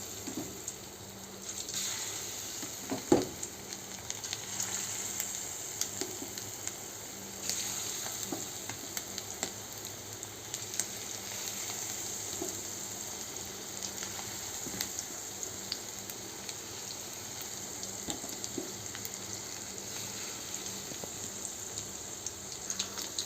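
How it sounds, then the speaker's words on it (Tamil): Chicken pieces for chicken manchurian frying in hot oil in a pan, a steady close sizzle running throughout with occasional sharper crackles and pops, no talking. "நல்லா பொரிக்கணும்."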